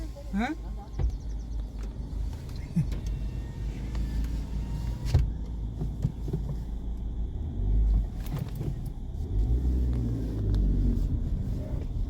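A car drives along a rural road between green fields with a steady low engine rumble and road noise. People talk over it throughout.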